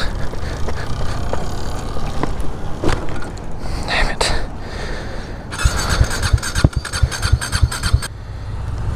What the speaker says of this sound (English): My bike won't even start.